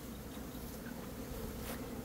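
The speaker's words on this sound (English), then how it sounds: "Today they're really kind of mean bees with the overcast and all that" Honeybees buzzing around an apiary on an overcast day, a continuous soft drone from many bees with one louder pass close by, no talk over it.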